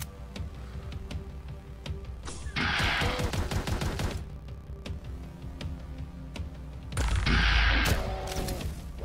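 Rapid pistol fire in the video game Astral Abstraction: bursts of quick, regular popping shots, close and loud, with brief pauses between volleys and a low hum underneath.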